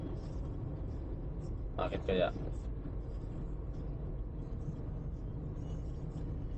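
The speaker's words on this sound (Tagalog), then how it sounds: "Dami pa rin sasakyan na." Night road traffic on Dammam Road in Saudi Arabia, a constant low rumble of passing vehicles with one brief louder pass, and someone speaking quietly over it.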